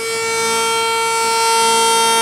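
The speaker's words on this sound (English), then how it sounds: "bring the siren his dad had built more than 90 years ago to life once again" Siren built more than 90 years ago sounds again at a rededication ceremony, a loud steady rising wail with strong harmonic tones swelling in volume, heard alone without talk.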